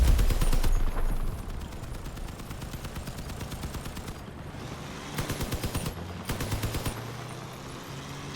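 Rapid gunfire from vehicle weapons in the Crossout combat game comes as repeated automatic bursts, loud and close, with brief pauses between volleys.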